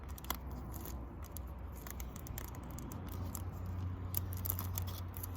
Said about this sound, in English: I'm going to fold it over and put some tape around it.